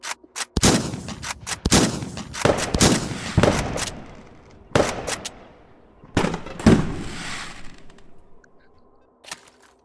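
Twelve-gauge shotgun blasts in H3VR, a rapid string of about a dozen sharp loud shots fired in quick bursts with short gaps, each followed by a brief decay, then a few faint clicks at the end.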